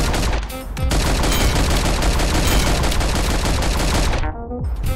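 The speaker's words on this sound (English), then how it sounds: "I can have dual AK-47s." Dual AK-47s roar in the game Karlson, a dense, continuous, loud burst of automatic fire lasting several seconds with a brief break at the start and a sudden stop near the end.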